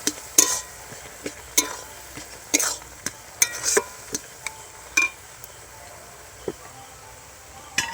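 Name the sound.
stirring and frying mashed jujube (kul) pulp in a pan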